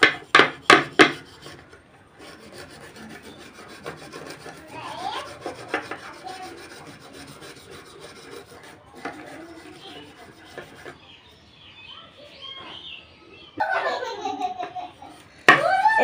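Rusty scissors being scrubbed with a rasping, rubbing stroke, intermittent scraping passes of varying loudness with a few sharp clicks near the start and end, close up and fairly quiet.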